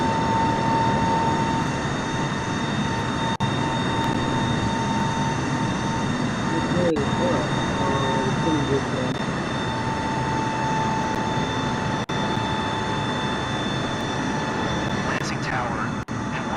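Engines of a large heavy jet airliner in Microsoft Flight Simulator 2024 drone loudly and continuously with a steady whine layered over a deep rumble.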